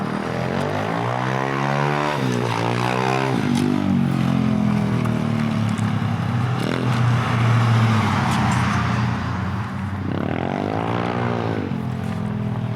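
Motorized bike revving hard as the rider does tricks nearby, a loud continuous engine drone with repeated rising and falling throttle sweeps, close and dominating throughout.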